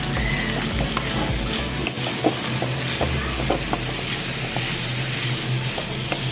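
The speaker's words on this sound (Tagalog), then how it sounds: "Pwede na natin ilagay ang ating Baguio beans." Corned beef sizzles and fries steadily in a pan as Baguio beans go in, with a constant close crackle, soft scraping stirs and light clinks throughout, no talking.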